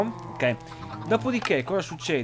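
Cows in the Minecraft video game moo several times in short synthetic lowing calls, close and fairly loud, while someone speaks over them.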